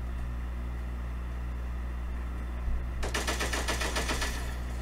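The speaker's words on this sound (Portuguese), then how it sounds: "Tinha uns tiros aqui, velho." Rapid automatic gunfire in the shooter game Cyber Hunter, starting abruptly partway through as a dense burst of repeated shots over steady game background noise.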